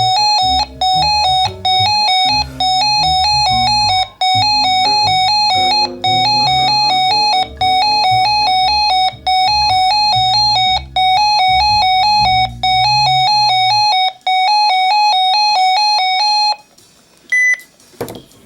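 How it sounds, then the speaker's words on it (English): A loud electronic siren test tone from a RadioShack 12-259 radio alternates rapidly between two pitches in a steady warbling pattern, with a lower melodic tone underneath, then stops abruptly. "That's the siren."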